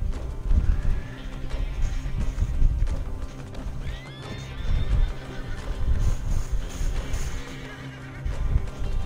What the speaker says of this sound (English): I'm gonna steal the black horse.